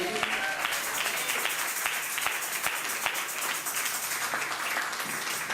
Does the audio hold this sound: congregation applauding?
yes